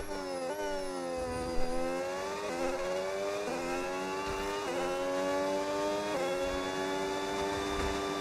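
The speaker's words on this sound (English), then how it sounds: "I've never really cared about what the engine sounds like" A Formula 1 racing car engine in the F1 26 video game, a high-pitched whining scream that climbs repeatedly as gears shift in a steady pattern, loud and continuous throughout.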